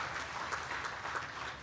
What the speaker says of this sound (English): give yourselves all a round of applause for helping to support this next generation of students